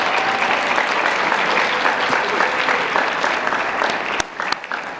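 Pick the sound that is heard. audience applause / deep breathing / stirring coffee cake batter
audience applause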